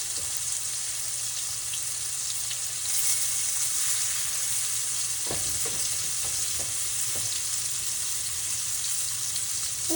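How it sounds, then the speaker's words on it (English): Small beef pieces searing in plenty of oil in a pan, a constant loud sizzle with a few clinks of stirring partway through, no voices. "Oh yeah, that's starting to get a sear."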